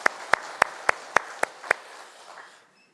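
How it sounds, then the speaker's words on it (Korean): A church congregation at a Sunday service claps in unison, giving seven crisp, evenly spaced claps before the sound trails off into quiet. "하나님 앞에 영광의 박수를 드리겠습니다."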